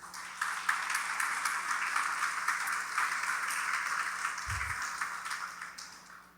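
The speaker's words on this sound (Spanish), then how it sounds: "Un aplauso a Dios." A church congregation applauds during a Spanish-language sermon, a steady wash of clapping that holds for several seconds and tapers off at the end.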